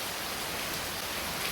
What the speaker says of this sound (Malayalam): സൂപ്പർ മഴയാണ്.